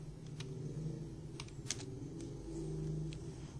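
Typing on a computer keyboard during data entry, with scattered light keystroke clicks over a steady low hum, fairly quiet and close.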